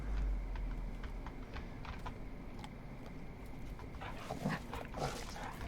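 A dog in Farming Simulator, a few short barks and whimpers late in the clip over steady game ambience and faint clicking.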